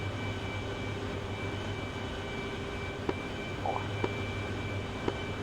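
A military aircraft engine drones steadily in flight during night close air support training, a loud, constant broadband roar with a few faint clicks over it and no talk.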